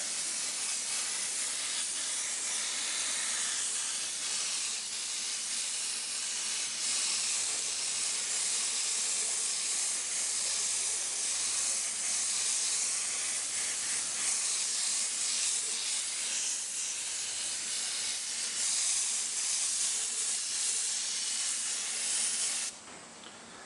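Continuous hissing spray of paint onto a wooden gun stock, close and steady for the whole stretch, cutting off abruptly at the end.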